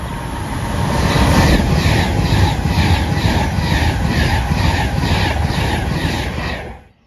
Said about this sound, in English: There we go, it's the Pendolino.